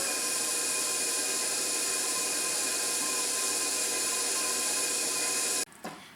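A high-pitched electric mixer whines steadily while beating sugar into butter, loud and close, then stops abruptly near the end.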